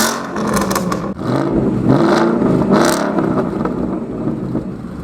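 A Ford Mustang GT 5.0 fitted with a Borla exhaust revs hard at close range, rising and falling in a few loud, sustained bursts with a raspy, throaty edge and no talking.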